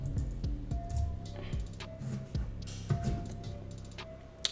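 Rapid keystrokes on a computer keyboard, several quick clicks in irregular bursts, close and clear over a steady tonal background hum.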